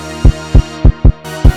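A kick drum pattern thumps through a hip-hop mix, five deep, booming hits over a sustained tonal bed, with a bright high layer entering near the end.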